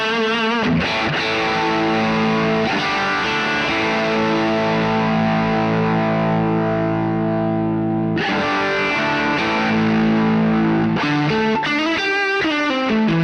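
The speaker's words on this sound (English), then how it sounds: "if I do this and go onto the drive channel" Electric guitar played through a Quad Cortex amp model on its drive channel, giving thick distorted sustained chords that ring out, break off briefly, then resume loud and alone.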